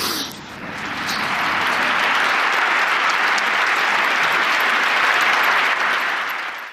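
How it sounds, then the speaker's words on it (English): Audience bursts into clapping straight away, a loud, dense and sustained round of applause that swells within the first second and holds evenly for several seconds before easing off. "they started clapping straight away"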